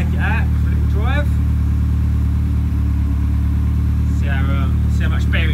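A Ford Escort RS Turbo with a new camshaft idles steadily as it warms up, a constant low engine drone running throughout, while people talk over it at intervals.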